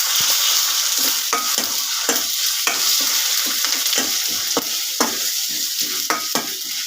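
Onions, curry leaves and ginger garlic paste frying in a pan for bitter gourd curry, a loud steady hissing sizzle with repeated spoon scrapes and stirring knocks, close and with no talking.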